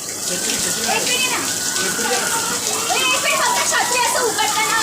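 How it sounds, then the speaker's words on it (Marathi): Steady rain pours during the first monsoon shower, a loud continuous hiss and patter throughout, with people talking and calling out over it. "पाऊस आला म्हणून सगळे घरात गेले"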